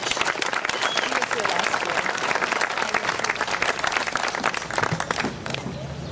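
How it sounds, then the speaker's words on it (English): An audience applauds a World War II veteran, Mr. Alfred Williams, at an honoring ceremony: sustained, dense clapping from a crowd fills the hall, tapering off near the end. "Let's give Mr. Alfred Williams a big round of applause"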